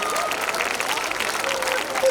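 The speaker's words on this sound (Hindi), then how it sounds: "एक बार तालियां वालियां बजा दीजिए।" An audience at a Hindi comedy poetry gathering claps in a sustained, lively burst. The clapping is dense and fairly loud, with some voices mixed in.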